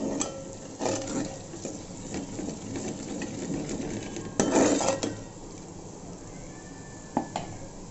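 Spiced bottle gourd dal with red chili powder and turmeric is stirred in a pot, with quiet scraping, a few louder clanks of a spoon against metal, and a faint sizzle underneath.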